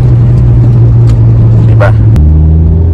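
A turbocharged car revving hard, engine drone holding steady then stepping down, with a brief rising whistle of turbo spool partway through, loud and close.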